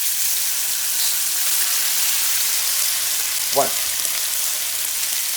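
Two slices of bacon frying in oil, a steady, even sizzle throughout, with one brief spoken word over it.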